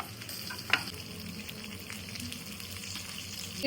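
Black fish fries in a pan with a continuous, moderate sizzle and crackle, plus one brief sharp tap early on, and no one talking.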